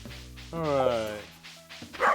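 A dog barks in the video game Stardew Valley, a short close yip and bark set against background game music, with a voice speaking briefly.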